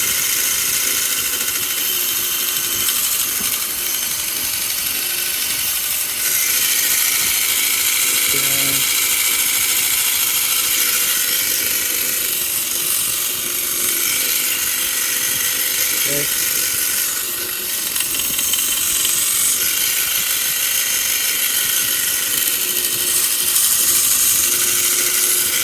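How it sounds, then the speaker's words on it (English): A cheap power sander whines steadily while sanding the edges of a 3D-printed TPU wallet, a loud continuous buzz that holds nearly unchanged throughout. "It's time to sand the edges of this because I don't like the way that looks. So I use my cheap sander here"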